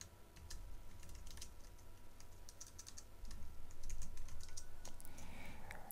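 Rapid typing on a computer keyboard, a close run of quick light clicks in irregular bursts over a quiet background hum, with no voices.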